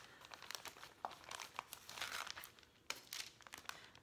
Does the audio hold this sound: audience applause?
no